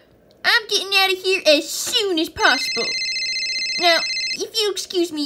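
An electronic telephone ring trills in a sustained burst midway, under and between animated voices talking quickly nearby in a Schleich toy movie.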